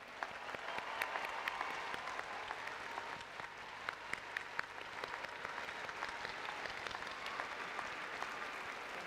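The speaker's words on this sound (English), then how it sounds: "Please join me in another round of applause for this very" A large audience at the Utah Valley University 2022 commencement gives sustained applause for graduating students, a dense continuous wash of clapping with sharp individual claps standing out.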